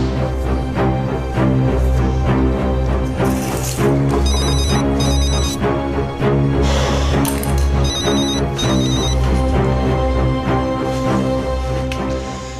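An unanswered telephone rings on and on in repeated bursts, loud and close, over a steady background with no one picking up.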